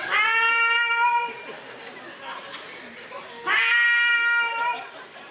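A cat caterwauls in two loud, drawn-out, wavering yowls, the second starting after a short gap filled with noisy commotion and background chatter.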